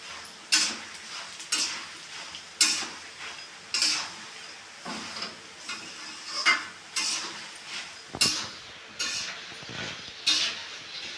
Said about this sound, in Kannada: ಇವಾಗ ನೋಡ್ರಿ ಎಲ್ಲನೂ ಫ್ರೈ ಆಗಬೇಕ